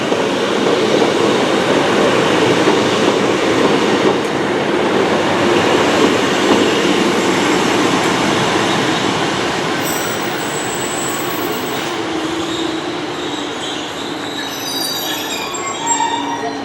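A Class 153 diesel unit pulls into Paignton station on its arrival from Exeter, a steady loud rumble with squealing wheels and metallic rail noise that eases a little as it slows near the end.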